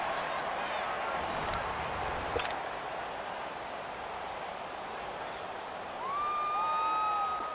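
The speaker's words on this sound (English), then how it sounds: "The crowd getting into it as we come up on a big 3rd down." Steady, dense roar of a stadium crowd in a Madden football video game set in Pittsburgh, holding at an even loud level throughout and swelling slightly near the end, with a faint whistle-like tone over the noise.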